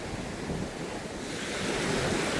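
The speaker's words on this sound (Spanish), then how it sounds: "con lluvia se mueve el mar" Sea waves wash onto a Dominican Republic beach after rain, a continuous rolling surf with wind buffeting the microphone and no one speaking.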